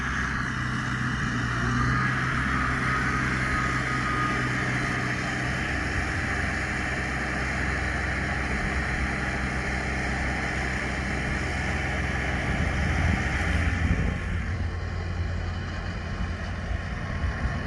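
A Farmall M tractor engine runs steadily while being driven, a continuous low putting drone that holds at an even level throughout, with a slight shift near the end and no talk.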